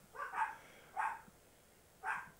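Dogs bark three times, faint and somewhat distant, as short separate bursts with quiet pauses between them.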